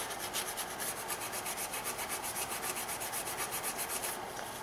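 A Scotch-Brite pad scrubs old gasket material off the oil filter housing sealing surface of a BMW 3 Series E90, a fast, rhythmic, close rasping rub repeated steadily throughout.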